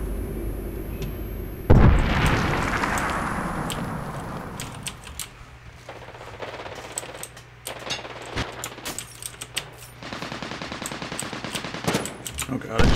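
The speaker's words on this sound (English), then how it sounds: "Oh god, I just threw a grenade at my teammate" Grenade blast and gunfire in the video game Medal of Honor: Warfighter, opening with one loud close explosion that gives way to a long trail of sharp, scattered shots and bursts of fire, some near and some farther off.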